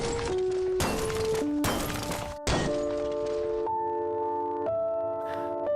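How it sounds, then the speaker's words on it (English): A finished marionette doll is slammed to the ground and shatters, giving four sharp crashing bursts in quick succession over sustained ringing tones, then a quieter stretch with lingering drones. "I slammed the finished Marionette heavily to the ground. She shattered."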